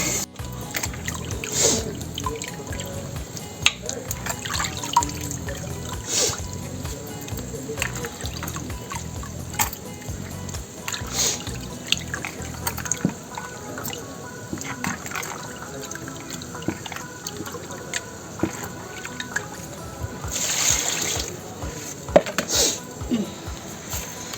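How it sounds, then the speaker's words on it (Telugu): Raw mutton being rinsed in water a second time in a home kitchen, giving continuous close splashing, trickling and sloshing with occasional clatter, and a few brief louder bursts of running water. "ఇలా ఒకసారి కడిగి పెట్టుకున్న మటన్ మళ్ళీ రెండోసారి కడుగుతున్నా"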